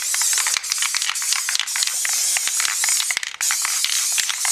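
Aerosol clear coat sprayed onto a Dig Dug arcade marquee during restoration: a steady close hiss broken by short pauses and the clicking rattle of the can, no voices.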